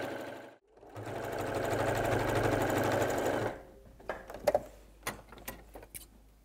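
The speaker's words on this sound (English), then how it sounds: "And just sew all the way around all four sides" Sewing machine stitching around all four sides of a BBQ roll mat, a steady whirring run for about three seconds, then stopping, followed by a few scattered clicks and handling knocks.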